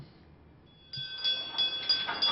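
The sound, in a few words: school bell ringing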